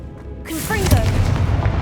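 A Confringo blasting spell in the Hogwarts Legacy video game fires off with a sudden broadband burst, followed by a lingering rumbling boom and whooshing tail; a short voice sound overlaps the start.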